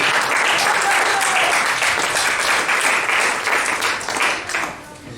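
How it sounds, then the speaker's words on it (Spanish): A church congregation claps together in an offering of praise, a dense, steady wash of many hands filling the whole stretch before tapering slightly at the end, with faint voices mixed underneath. "Dale una ofrenda de palmas al Señor"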